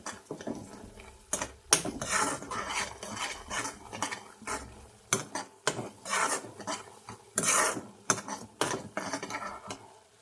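A spoon scraping and stirring through prawn paste with fried onions and green chillies in a metal pan: repeated close, uneven scrapes and clinks in quick bursts, with no voices.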